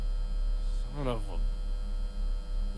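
A live electric current in a survival horror game gives off a constant mains hum, steady and continuous throughout, with a brief rising tonal sweep partway through.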